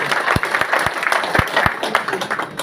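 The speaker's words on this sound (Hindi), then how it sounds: "प्लीज इनके लिए जोरदार ताली।" Audience applause during a stage event honoring a sponsor: a steady wash of many hands clapping at close range, with a few louder individual claps standing out, continuing throughout at fairly even loudness.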